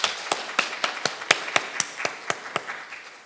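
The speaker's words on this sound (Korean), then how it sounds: "우리 손으로도 박수로도 한번 하나님께 영광 드리면 좋겠습니다" Church congregation at a Sunday service claps in a steady, evenly spaced rhythm of about a dozen crisp hand claps, fading slightly toward the end with no voices.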